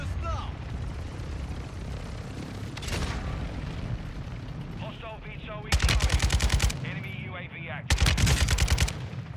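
Modern Warfare 2 combat: a low rumbling background of distant blasts gives way to two loud, close bursts of rapid automatic gunfire, with a voice talking under the noise.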